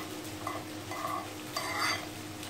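Instant pizza sauce being mixed in a pan, soft scraping stirs at a steady rhythm over a faint sizzle, close and quiet.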